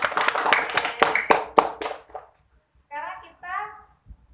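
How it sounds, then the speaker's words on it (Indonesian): A classroom of children claps hands together in a short burst of sharp, loud claps that thins out and stops, followed by a voice speaking. "Oke, tepuk tangan untuk semuanya."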